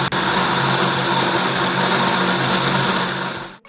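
Eggshells ground in an electric grinder for use in tomato garden soil, giving a steady, loud, high-pitched motor whir that runs continuously and then stops abruptly at the end.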